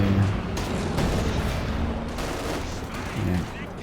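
Heavy mortar and rapid gunfire from a competitive multiplayer shooter match, with a steady barrage of booms and shots running throughout, loud and dense, with a brief harmonic tone near the start and end.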